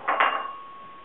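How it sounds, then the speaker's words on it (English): Chopped prosciutto dropped into a cooking pan for spaghetti carbonara, a brief soft clatter and scrape of two quick impacts with a short ringing tail, close and alone. "Now I'm going to put in the chopped prosciutto."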